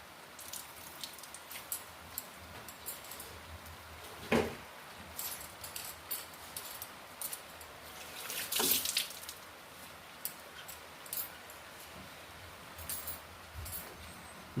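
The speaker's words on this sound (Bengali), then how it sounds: "দেখছেন অবস্থা, বৃষ্টির অবস্থা দেখুন কি জোরে বৃষ্টি।" Heavy rain falls in Shillong as a soft, continuous patter heard from indoors, with scattered louder drips and splashes breaking through now and then.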